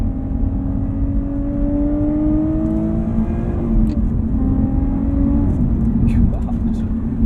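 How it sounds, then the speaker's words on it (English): A 2020 Lotus Evora GT engine on Cup 2 tires accelerates, its tone climbing smoothly through the revs and dropping at a shift before pulling up again, loud from inside the cabin. "Listen to that engine just sing."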